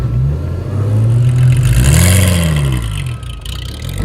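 Rally Porsche engine revving as it drives across a frozen lake, a loud, close, rising and falling mechanical drone heard from inside with faint rattling.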